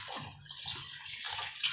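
Water pours steadily into rice being readied for cooking in a pressure cooker, a continuous close splashing gush across the short moment.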